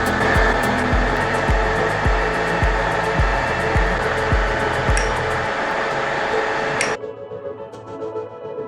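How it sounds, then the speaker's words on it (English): A power drill boring four holes through steel plate for a homemade excavator track tensioner, a loud steady grinding whine with rhythmic low knocks, running continuously for about seven seconds and then cutting off abruptly. "Now we can first drill the 4 holes."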